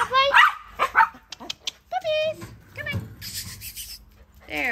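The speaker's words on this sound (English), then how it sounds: "They just want to go play with the poodle puppies." Poodle puppies yipping, barking and whimpering during play, with short high-pitched bursts close by and a person talking between them.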